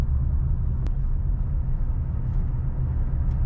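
A 2011-2017 Hyundai Elantra driving at about 20 mph while the gas is eased off, giving a steady low engine rumble and road noise that stays even and loud inside the cabin.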